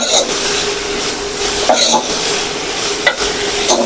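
Spice masala chutney cooking in oil in a pan, stirred continuously with a spoon, giving a loud close sizzle with scraping and light clinks against the pan, no voices.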